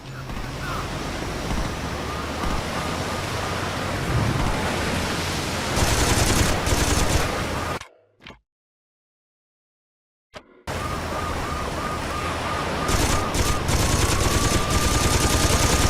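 Sustained automatic machine gun fire in the video game Saints Row 2, loud and dense within a noisy action mix, cutting out briefly to near silence midway before the barrage resumes.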